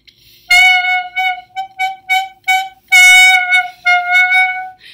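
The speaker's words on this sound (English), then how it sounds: "Like really unsteady and kind of weak sounding." Clarinet sounded with too little mouthpiece in the mouth, giving a thin, weak, unsteady tone; a string of short wavering notes, stopping and restarting, played alone and close.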